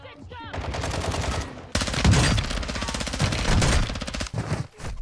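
Rapid automatic gunfire in the shooter DMZ, with fast repeated bursts broken by brief pauses, loud and close, with voices faintly in the mix.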